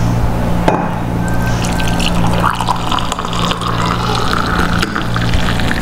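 Hot coffee pours steadily from an Ikon coffee maker's jug into a cup, a continuous liquid stream with trickling and splashing that stays loud and close throughout, with no talking.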